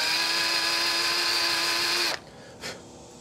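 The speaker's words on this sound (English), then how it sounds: "I'm going to countersink that hole just a little bit, and that should help it" A power drill hums steadily while countersinking a hole for a tool handle insert, a close, even whine that stops abruptly after about two seconds, followed by a brief trailing rev.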